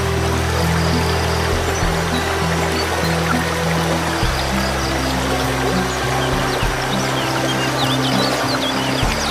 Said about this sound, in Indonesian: sambil mendengarkan suara gemericik air dan jernihnya air sungai